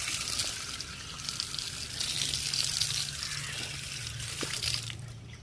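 Tap water runs while feet are washed at an outdoor faucet near a temple, a steady faint splashing hiss with small fluctuations throughout and no talk.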